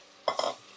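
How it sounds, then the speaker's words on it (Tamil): Brief scraping and stirring of mutton sautéing in a hot pan for Chettinad mutton curry, a couple of quick spatula strokes over a faint background hiss. "மட்டன் இதுலேயே நல்லா வே வதங்கட்டும்"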